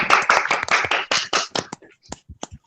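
A burst of clapping from a workshop audience, dense at first and thinning into scattered claps before fading out.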